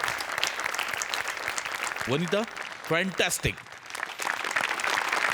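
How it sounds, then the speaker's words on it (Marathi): A studio audience on a comedy show claps in steady, dense applause, with a voice briefly speaking over it midway. "ऋषिकांत राऊतसाठी स्पेशल टाळ्या व्हायला पाहिजे"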